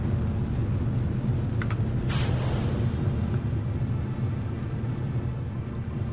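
Rocket booster ignition and liftoff in Kerbal Space Program, a loud, steady low roar sustained throughout with a brief hiss swelling mid-way, no voices.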